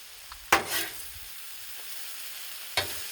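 Jambalaya made with medium-grain rice frying on a Blackstone griddle, two sharp spatula scrapes a couple of seconds apart over a faint, steady sizzle.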